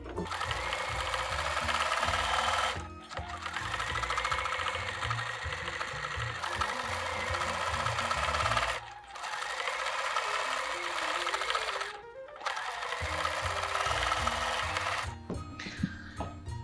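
Sewing machine stitching a pointed loop-to-loop quilting design with a template, running in long steady runs of fast mechanical whirring broken by brief stops, close and clear.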